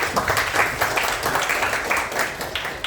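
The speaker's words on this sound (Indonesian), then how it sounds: "boleh tepuk tangan sekali lagi untuk kita semua" An audience at an Indonesian student talk session claps together in steady, fairly quiet applause, a dense patter of hands lasting a few seconds with no voices over it.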